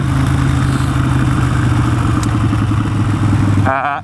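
Harley-Davidson Nightster motorcycle engine idling loud and close, a steady deep throbbing rumble with clattering pulses, cutting off abruptly near the end.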